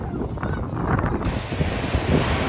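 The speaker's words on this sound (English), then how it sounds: "A little windy." Steady gusts of wind buffet the microphone on the beach at Tybee Island against a continuous roar of surf, loud and unbroken, with no voices.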